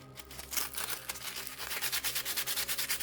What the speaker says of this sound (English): I'm going to go on to some sandpaper, and I'm just going to use the sandpaper to